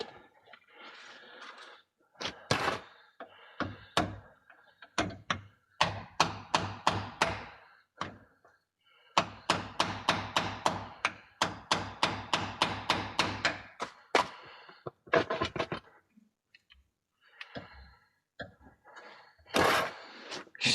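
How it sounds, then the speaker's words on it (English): Hammer blows on the differential cover of a 2002 car: sharp metallic taps come in rapid bursts of closely spaced strikes, with short pauses between the bursts. "I'm gonna take a hammer and just pound it just a little bit"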